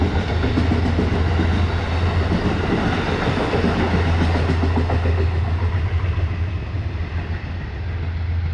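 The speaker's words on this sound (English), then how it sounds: "Amtrak train going south." A southbound Amtrak passenger train rumbles past nearby at Garrison station on the Hudson Line, New York, with steady clickety-clack of wheels on rails and a low engine drone, loud throughout and easing slightly toward the end.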